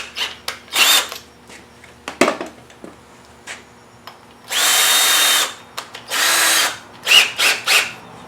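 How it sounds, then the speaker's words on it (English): A power drill with a Forstner bit countersinks wooden boards for a garden gate arch, running in several sustained whirring bursts with short blips and pauses between, close and fairly loud. "We're going to do that by countersinking with our Forstner bit."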